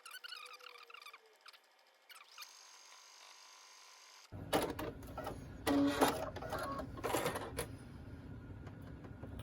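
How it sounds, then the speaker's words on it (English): A sewing machine stitches all the way around a wrist sling bag, first in short stop-start runs, then a louder, denser whirring stretch of rapid stitching close by. "I'm going to sew all the way around"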